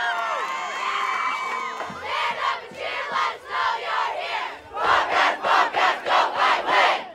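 A football crowd at a Paradise High School game cheers and whoops, rising into rhythmic chanted bursts of shouting, loud and close, with young voices among them.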